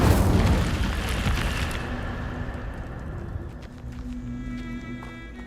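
A fiery Incendio spell blast in Hogwarts Legacy erupts as a loud, close boom with a rushing burst, then fades into a lingering rumble and crackle over the following seconds, with no talking.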